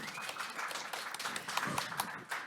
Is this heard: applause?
yes